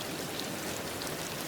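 Steady rain falls in an even, dense hiss, soft and unbroken, with no voices.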